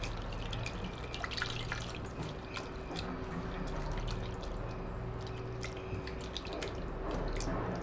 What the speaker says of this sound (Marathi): थोडंसं पाणी घालायचं आहे आणि व्यवस्थित धुवून घ्यायचं आहे